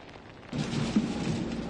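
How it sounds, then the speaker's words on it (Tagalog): Heavy rain and gusting wind from a typhoon in Camarines Norte, Philippines, surge in suddenly after a quieter start, a dense rushing roar that stays loud to the end. "ganito pa rin kalakas ang ulan at hangin dito sa Camarines Norte"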